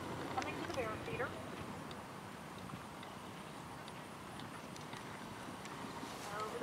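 Faint hooves of a five-year-old horse galloping toward a jump on an eventing cross-country course at Bear Hill, a steady distant drumming under a commentator's voice.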